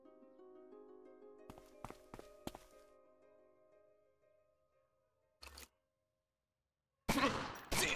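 A quick burst of four sharp gunshots rings out in the turn-based gangster game Omerta: City of Gangsters, over a sustained musical drone, followed later by a short thud and a loud noisy crash.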